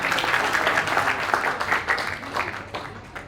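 Audience applause fills a Diwali comedy night, a dense, steady wash of many hands clapping at once that stays loud throughout before easing slightly toward the end.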